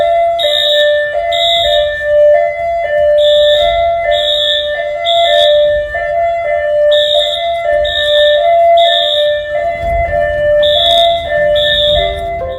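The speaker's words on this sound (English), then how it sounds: "the alarm suddenly goes off on its own" A school alarm in an empty elementary school rings on its own with a repeating electronic two-tone pattern, loud and steady, cycling roughly every second without pause.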